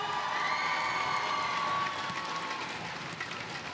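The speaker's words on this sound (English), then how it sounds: "give a round of applause to our comrades all the way from Singapore!" A large crowd at a SEA Games netball match between Singapore and Malaysia cheers and claps loudly, with sustained shouts and whistles that ease off slightly toward the end.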